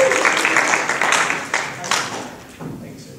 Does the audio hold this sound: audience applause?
yes